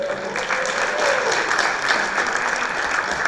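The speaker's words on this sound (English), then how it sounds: "More clapping, please." A crowd claps steadily and enthusiastically, dense continuous applause filling the room without a break.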